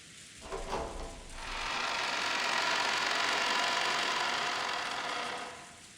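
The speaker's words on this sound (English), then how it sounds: "The cold air and the monotonous sound of the rain were comforting." Rain from the Umineko visual novel sets in after a short mechanical rattle at the start, building into a steady, even hiss that holds at moderate level and then eases off at the end.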